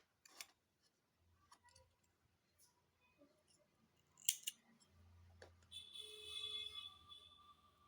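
Scissors snip crochet yarn for a scrunchie, sharp quiet metallic clicks and a crisp cut near the middle, heard close in an otherwise quiet room with faint handling noise.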